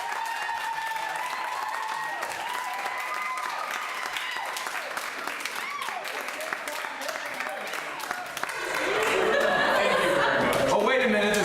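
Audience at a university applied vocal music performance recital clapping and chuckling, scattered laughter and voices mixed in, with a louder burst of applause swelling near the end.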